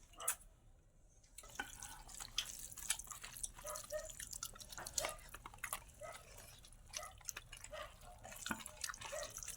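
Fish curry made with a paste ground on a grinding stone is poured onto a leaf, giving soft wet dripping and splashing that repeats over a quiet background.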